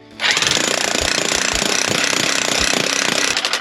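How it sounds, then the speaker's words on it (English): Jackhammer pounding hard rock wall in an opal mine, a loud, continuous rapid hammering close by that starts abruptly and runs steadily to the end with no talk. "You can barely get through it with the jackhammer."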